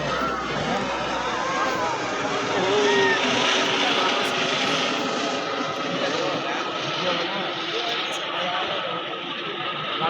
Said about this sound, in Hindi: गाइस, हेलीकॉप्टर आ गया है यहाँ पर शमशान में।